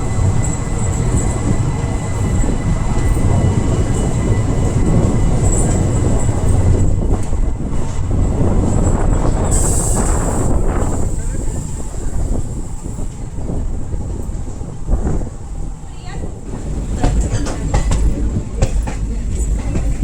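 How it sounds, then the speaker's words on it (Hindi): The Vasco da Gama Tirupati Express pulling out of Hubli Junction after a scheduled halt, a loud continuous rumble with rhythmic wheel clatter and occasional high squeals, no voices. "तो शेड्यूल्ड हॉल्ट के बाद 2:30 पर हमारी ट्रेन निकल रही है"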